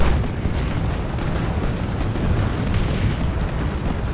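Blaster fire blows apart Chaos Space Marines in Dawn of War 2 during an Ork battle, a steady roar of overlapping explosions and booms that rumbles loudly without letup.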